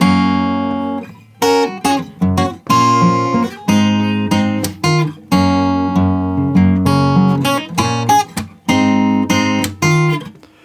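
A guitar plays the chord part of a song, with strummed and plucked chords ringing in a steady, broken rhythm, up close and clear, with no one talking.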